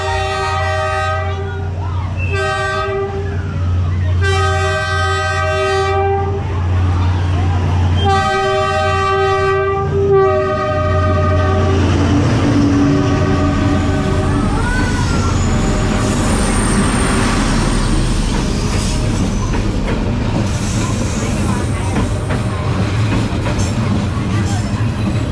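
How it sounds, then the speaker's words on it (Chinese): A train rolling slowly through Hanoi's narrow train street, sounding repeated loud horn blasts before its cars rumble past close by, with people talking nearby. "火车要来喽！"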